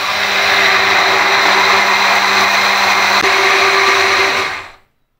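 A blender whirs steadily, emulsifying two eggs, olive oil, salt and lemon into homemade mayonnaise. The motor runs loud and close at an even pitch for about four and a half seconds, then cuts off abruptly into silence.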